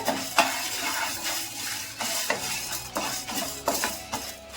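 Lentils, dried chillies and tamarind roast in a pan while a spoon scrapes and stirs them, giving a soft continuous sizzle broken by repeated sharp metallic clinks at an uneven pace, close and moderately loud.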